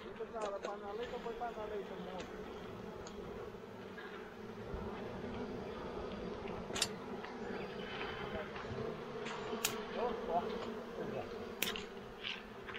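Bees buzz continuously around a hive during honey harvesting in a field in the Dominican Republic, a faint droning hum with occasional louder passes nearby, and people talk quietly in the background.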